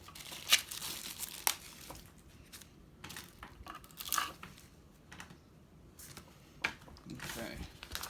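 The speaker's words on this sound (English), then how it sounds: "This knife is my best friend. Makes it so easy to cut everything." Knife slicing and tearing through crinkly packaging while a Smittybilt X20 10,000 lb winch is unboxed, a few sharp rips and crackles spread between quieter rustling, close and fairly soft.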